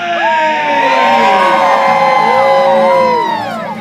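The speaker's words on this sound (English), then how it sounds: "I want to hear the biggest, loudest cheer for the Warwick Castle trebuchet!" A large outdoor crowd at Warwick Castle cheers, whoops and yells for the giant trebuchet, a loud sustained roar of many voices with rising and falling shouts lasting the whole stretch.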